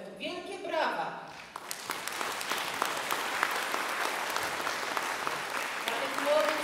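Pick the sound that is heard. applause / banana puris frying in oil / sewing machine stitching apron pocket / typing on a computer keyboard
applause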